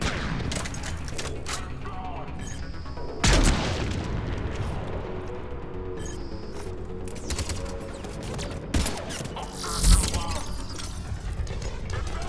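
Gunfire and booming blasts from the Mass Effect 3 video game, with a sharp grenade-like explosion punching out of steady shooting and a couple more bursts later; a voice talks faintly underneath.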